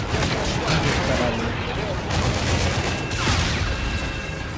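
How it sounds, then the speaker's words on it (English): Heavy De-Atomizer strike explosions in a multiplayer shooter video game, a dense, loud barrage of rumbling blasts and booms carrying on continuously, with a voice talking over the top. "Your team called in the De-Atomizer strike."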